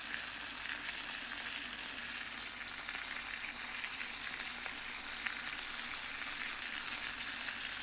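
Iceland Big Daddy sirloin steak frying in a pan, its fat rendering with a steady, dense sizzle and crackle that holds evenly throughout, close and moderately loud, with no talking.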